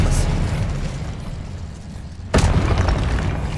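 Spell explosions in Hogwarts Legacy: a steady roaring wash of magical blasts, then a sudden loud burst partway through that keeps crackling afterward, with a voice faintly present in the mix.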